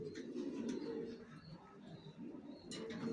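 Young racer pigeon squabs coo softly in low murmuring phrases, faint and close, with a few light chirps above, and no voices present.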